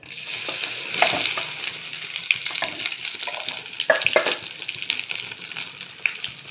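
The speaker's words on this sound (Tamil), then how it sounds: "கடுகு பொரிஞ்சதுக்கப்புறம் இப்போ நான் வெண்டைக்காவை போட போகிறேன்." Okra sizzling in hot oil with popped mustard seeds in a pan, a steady bright frying hiss with scattered crackles and pops and occasional stirring clicks.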